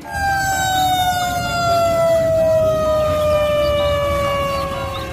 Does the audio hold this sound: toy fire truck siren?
yes